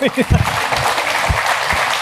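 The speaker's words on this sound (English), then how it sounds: "Give her a round of applause." An audience at a leadership talk breaks into applause, brief steady clapping mixed with some voices and laughter.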